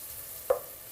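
Sofrito vegetables are sautéed in olive oil for an Italian ragù bianco, a soft steady sizzle in the pan with two brief scraping stirs, close up and with no talk.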